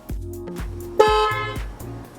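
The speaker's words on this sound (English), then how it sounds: "or the horn a quick honk" A Tesla car horn gives one short, clear honk mid-clip, set against a looping electronic backing beat.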